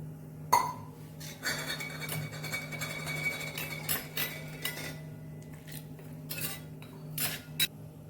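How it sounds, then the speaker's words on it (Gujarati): A spoon clinks and scrapes against a metal bowl in short, uneven bursts while spices and water are stirred for dal dhokli, with a steady low hum underneath. "એમાં આપણે થોડું પાણી નાખીને મિક્સ કરી લઈએ"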